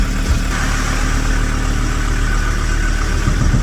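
A Ford Ranger pickup truck's engine drones steadily from inside the cab on a test drive, a loud continuous low rumble with road noise and no voices.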